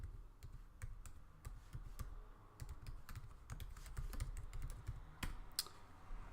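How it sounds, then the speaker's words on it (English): Rapid, uneven keystrokes on a computer keyboard as an email address is typed, a steady stream of close clicks with a low background hum and no talking. "So I'm just going to have to type it in."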